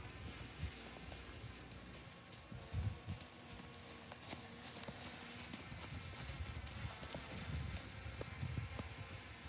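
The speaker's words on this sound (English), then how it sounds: "and then we go right to trotting." A young horse in early training trots under saddle with a rider aboard, giving a steady, quiet run of hoof clip-clops over soft outdoor ground with light rustle and no talk.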